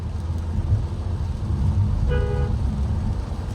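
A brief Renault Duster car horn honk sounds once over a steady low engine and road rumble from inside the moving vehicle.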